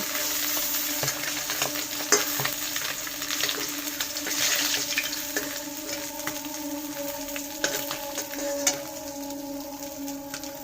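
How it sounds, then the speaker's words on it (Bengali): Fish pieces fry in hot oil in a kadai, giving a steady crackling sizzle with occasional sharper pops and faint utensil clinks, close and continuous with no voices. "এবার মাছটা এই পিসটাও ভাজা হয়ে গেছে, এবার তুলে নেব।"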